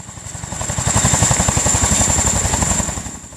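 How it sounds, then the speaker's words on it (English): A Boeing CH-47 Chinook tandem-rotor heavy-lift transport helicopter throbs with steady, rapid rotor beats and a high turbine whine, swelling louder toward the middle and fading slightly at the end. "The Boeing CH-47 Chinook is a heavy-lift transport helicopter"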